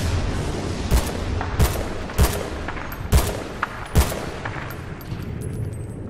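Gunfire in the video game Battlefield Bad Company 2 during a riverside mission. Sharp, loud shots and booms come at irregular intervals, about five strong reports with some fainter ones, against a background battle wash. No one speaks.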